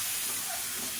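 Seven eggs frying in a pan of masala on a stove turned low, giving a steady, close, even hiss of sizzling oil with no voices.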